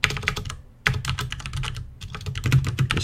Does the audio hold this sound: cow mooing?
no